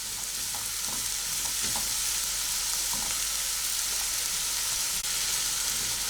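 Food fries in a small pan over the heat: a steady, dense sizzle fills the whole stretch, broken by a few faint utensil clicks, with no voices.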